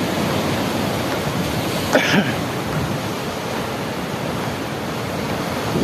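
Sea waves washing onto the shore beside a seaside shrine, a steady broad rushing roar with a brief louder surge, close and continuous, with no talk over it.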